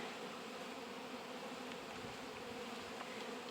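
Honey bees swarming around a hive, a steady, dense buzzing drone that fills the air, close and continuous with no voices.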